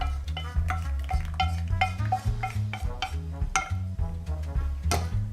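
Melted chocolate whisked into a beaten egg and sugar mixture in a bowl, fast rhythmic tapping and scraping strokes close by, steady and fairly loud, with no voices.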